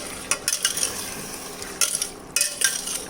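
Chicken curry being stirred in a pot, with a spoon giving several distinct scraping, clinking strokes against the metal over a low bubbling, close and moderately loud with no voices.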